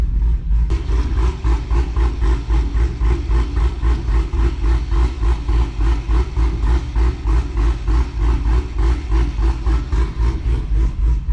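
A manual-transmission LS V8 car idles with a choppy, loping rhythm, its steady pulsing exhaust beats loud and close, repeating evenly throughout with no talking.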